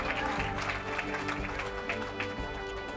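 A crowd at an outdoor police K9 dog exhibition applauds a handler, a steady, moderately distant patter of clapping running continuously under faint background hum.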